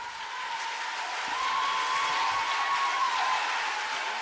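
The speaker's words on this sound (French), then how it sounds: "Malgré les applaudissements" Applause follows an anti-nuclear speech, a steady rushing wash of many hands clapping that swells a little midway and holds, somewhat distant, with a faint steady tone running beneath.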